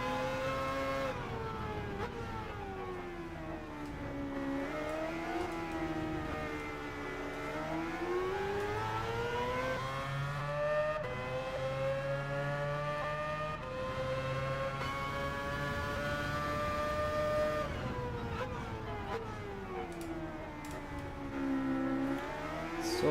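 A race car in Gran Turismo 7 laps the Spa circuit at night, its engine note climbing and dropping through repeated gear changes and revs, sustained and close with no talk over it.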